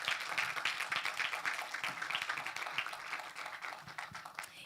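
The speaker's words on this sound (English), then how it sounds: "Let's give her a round of applause" Audience applause at a leadership forum, a dense steady wash of many hands clapping that holds evenly throughout, fairly close and loud, with no talk over it.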